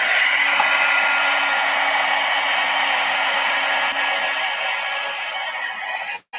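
An embossing heat gun blows a steady, loud, hissing roar that runs continuously before cutting out abruptly near the end.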